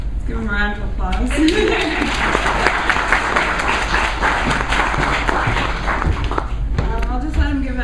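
A crowd at a Rising Tide Toronto gathering on the Great Lakes gives the group's members a round of applause, sustained mixed clapping and thuds filling the room while a voice speaks briefly at the start and again near the end.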